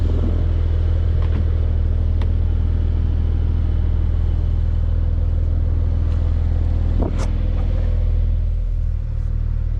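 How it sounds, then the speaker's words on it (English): Porsche 992 Carrera S lapping a track, heard from the passenger seat: a loud, continuous engine drone and rumble that stays steady for the whole stretch, with a brief shift in tone near the end. "passenger lap in the 992 Carrera S"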